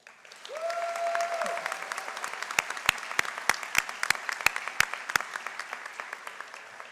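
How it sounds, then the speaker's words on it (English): Steady crowd applause at a spring college commencement ceremony for the valedictorian, a broad even wash of clapping with a few sharp near claps standing out, and a brief voice at the start. "while we recognize him with our applause"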